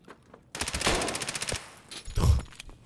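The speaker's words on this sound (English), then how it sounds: "we'll be able to get a few shots off before he adjusts his aim" Gunfire in the video game Escape From Tarkov: a rapid automatic burst of about a dozen sharp shots, followed by a second heavy shot and a thump, fairly close.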